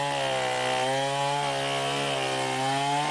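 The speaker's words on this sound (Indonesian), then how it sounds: "Petugas yang tiba di lokasi langsung memotong batang pohon yang diperkirakan berusia 50 tahun ini dengan menggunakan gergaji mesin." A chainsaw cuts through the trunk of a fallen tree about 50 years old, its engine droning loud and close at a steady pitch, with slight dips as the blade bites into the wood.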